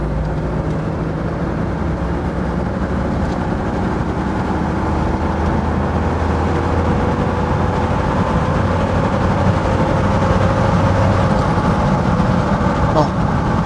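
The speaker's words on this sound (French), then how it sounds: "on va le pousser un petit peu dans les tours" Jeep 4.0L inline-six running on E85 with BMW injectors, pulled higher in the revs while driving at about 60 km/h; a steady, loud engine drone with road noise fills the cabin, with some talk over it.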